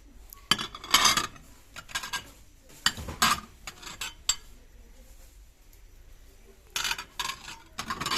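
Ceramic dinner plates from a discount-store tableware range being handled, sharp clinks and clatters in short bursts separated by pauses, close and fairly loud, without any speech.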